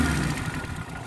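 A 1982 Suzuki Jimny 4x4 sits idling, its small engine giving a steady, smooth low rumble close by, unbroken and with no voices.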